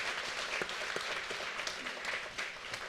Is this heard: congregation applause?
yes